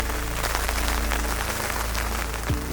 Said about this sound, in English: It doesn't stop raining.